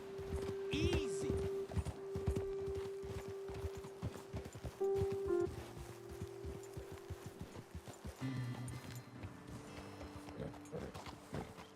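Horse hooves clip-clop steadily in Red Dead Redemption 2, several riders moving along together at a walking pace, with someone talking over them and a brief whinny near the start.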